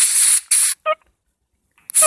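Video game dental water rinse spray: short bursts of loud, bright hissing spray, two quick blasts, a brief gurgling squirt, then another spray after a pause.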